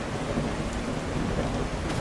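Steady rain with rolling thunder from a stormy scene in the video game The Last Caretaker, a dense continuous wash of downpour with a low rumble running through it, loud and unbroken with no voices.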